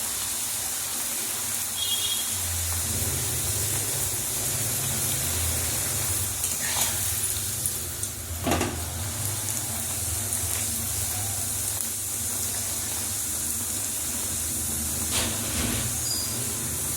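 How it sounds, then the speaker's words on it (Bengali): Pea-stuffed kachori made with wheat flour fry in hot oil in a kadai, a continuous hissing sizzle with occasional sharper bubbling bursts, steady and close, no voices. "তেলটা গরম হয়ে গেছে, এবার কড়াইশুঁটির লুচিটা ভেজে নেব।"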